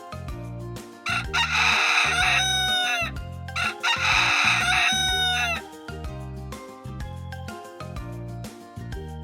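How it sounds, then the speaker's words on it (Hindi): A rooster crows a loud, drawn-out cock-a-doodle-doo twice in a row, set over a steady backing of bright music throughout. "मुर्गे कुकड़ुकू की आवाज निकालते हैं।"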